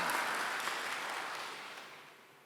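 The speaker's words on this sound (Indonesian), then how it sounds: "tepuk tangan bagi Allah kita" A church congregation claps in praise during a sermon, a steady wash of many hands that gradually fades toward the end.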